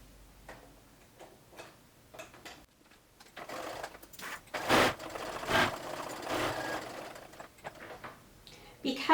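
Close sewing machine stitching along the fold of double-fold bias tape on fabric, a quiet rapid ticking that starts and stops in short runs with fuller bursts midway and soft handling sounds between.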